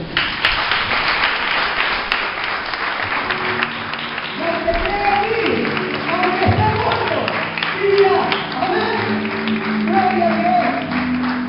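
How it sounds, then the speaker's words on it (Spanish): A Spanish-speaking church congregation applauds during a sermon. Clapping and crowd noise run underneath a voice as he keeps talking throughout. "Dale un fuerte aplauso."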